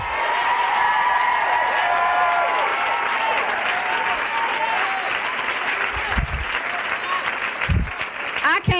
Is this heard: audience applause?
yes